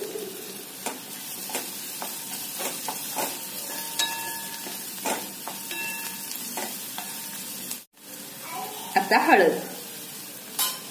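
Rice tempering with coriander and turmeric stir-fried in a pan, a steady sizzle broken by spatula scrapes and clinks, with a brief pause and a louder stirring burst near the end. A voice speaks briefly.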